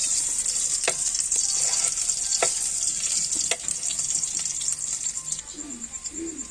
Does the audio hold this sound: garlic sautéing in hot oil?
yes